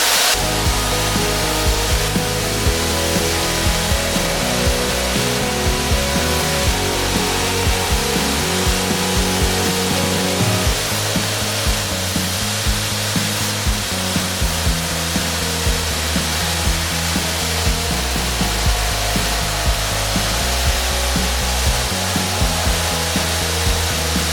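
A tap cuts a 1/4-28 fine thread into a hole in a shortened conventional motorcycle fork, lubricated with cutting oil; a loud continuous grinding hum drones throughout with small rhythmic ticks, no talking.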